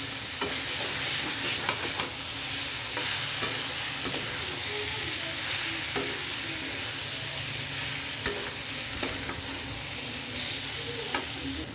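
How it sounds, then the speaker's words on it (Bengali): Fried jackfruit and potato sauté with spices in a pan for prawn curry, producing a continuous close sizzle broken by repeated scraping and clacking strokes of a spatula. "আমি 3-4 মিনিট ভালোভাবে কষিয়ে নেব।"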